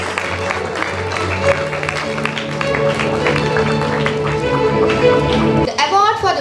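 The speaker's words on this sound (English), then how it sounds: "Audience, please give them a huge round of applause for their excellent performance." Applause from the audience at an interschool sustainable development competition mixes with sustained tones and voices, staying fairly loud before cutting off near the end, when a sweeping sound takes over.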